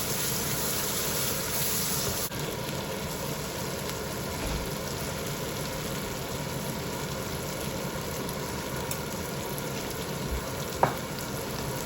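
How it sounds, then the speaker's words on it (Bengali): Spice mix with Kashmiri chilli and chopped tomato sautés in a pan for rui fish curry, a steady soft sizzle and hiss that holds evenly throughout with one brief knock near the end, no talking. "টমেটো কুচি দিয়ে এটা ভালো করে কষিয়ে নেবো"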